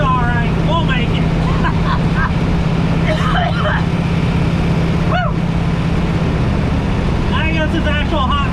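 A supercharged 1952 Mercury car runs with a steady, loud low engine rumble throughout, while people talk over it at intervals.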